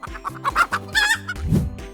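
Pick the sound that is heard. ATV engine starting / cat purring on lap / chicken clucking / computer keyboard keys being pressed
chicken clucking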